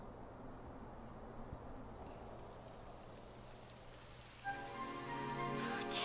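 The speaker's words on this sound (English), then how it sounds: "It would have to go and start raining, wouldn't it?" Rain beginning to fall in the video game Dragon Quest XI, a soft steady hiss of drizzle that swells into heavier, brighter rainfall toward the end, with no voices.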